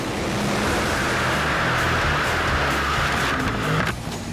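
A 10,000-horsepower funny car launching off the line at a drag strip, a loud, dense, roaring blast of engine noise that stays sustained and close throughout, with no voices.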